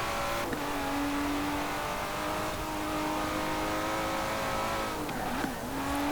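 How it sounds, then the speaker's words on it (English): A race car engine in Forza Horizon 4 holds a high, steady revving drone with a rich stack of harmonics, dipping and climbing again as gears shift, with no voices over it. "I think it's even more slightly higher revving than the previous car"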